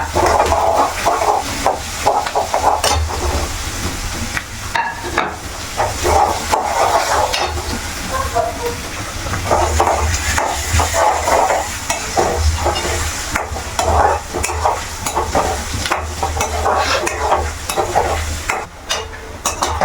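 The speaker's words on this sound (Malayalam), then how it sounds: "വെളുത്തുള്ളി ഇട്ട് കൊടുക്കാം. 2 കൂടി ഒരുമിച്ച് മൂപ്പിച്ചെടുക്കാം." Large garlic cloves fry and sizzle steadily in hot oil for a pickle, with a spoon stirring and scraping the pan in frequent bursts; the cooking sounds stay close and continuous throughout, with no talking.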